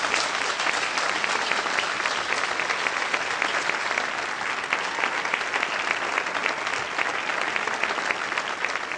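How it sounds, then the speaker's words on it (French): Warm, steady applause fills a hall at a French regional award ceremony as an honoree is welcomed, many hands clapping in a dense, even rhythm that holds throughout at moderate loudness without talk. "Et je vous demande d'applaudir Madame Claudette Joannan."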